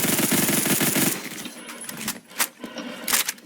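M231 rifle firing in the video game Phantom Forces: a rapid automatic burst of loud, close gunshots for about a second, then scattered single shots and clicks.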